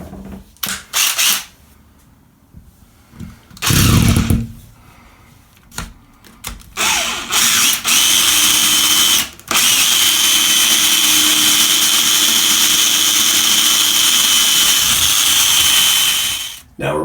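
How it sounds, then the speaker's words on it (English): A power drill with a 5/16 bit bores through a bathroom wall for a toilet paper holder mount, loud and close, starting in short bursts and then running in one long steady grind. "that's what I'm going to use to drill through the wall right now"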